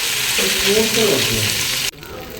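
Soybeans fry in a pan on a stove with a dense, steady sizzle and some stirring, then the sound cuts off abruptly near the end.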